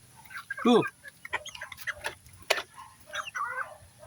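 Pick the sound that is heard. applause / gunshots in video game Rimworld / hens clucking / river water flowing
hens clucking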